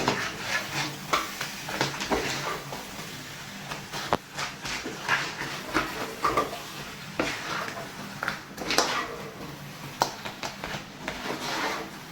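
Crab roast is stirred in a frying pan, a soft ongoing sizzle broken by repeated scraping and clinking strokes of the spoon against the pan, fairly quiet and close, with no talking.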